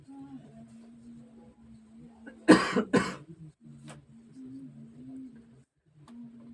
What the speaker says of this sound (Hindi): पढ़ाते पढ़ाते खांसी भी आ जाता है